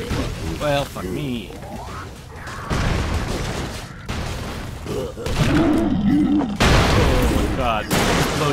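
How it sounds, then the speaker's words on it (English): Explosions in the video game Broforce boom and crash in repeated bursts, loud and close, with a voice talking over the chaos. "Explosions everywhere."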